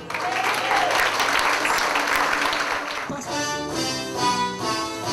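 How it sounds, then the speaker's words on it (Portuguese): Church congregation applauding in a dense, steady wash of clapping, then musical tones and instruments swell in over the final couple of seconds as the applause continues. "Aplauda o Senhor Jesus."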